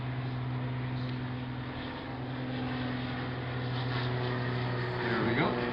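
A small propeller airplane drones overhead at a fly-in flour bombing competition, a steady engine hum with a rising pitch sweep near the end as it passes, while people talk quietly in the background.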